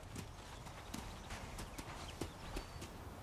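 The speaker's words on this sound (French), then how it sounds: "Je rentre ce cheval." Hooves of a horse being led in clip-clop at a steady walking pace, the sharp irregular strikes fairly close over a constant background hiss, with no voices.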